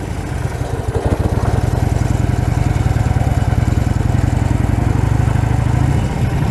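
A 2015 Harley Lowrider motorcycle without fairing or windshield rumbles close and loud during a ride, a steady deep pulsing engine throb that holds for several seconds.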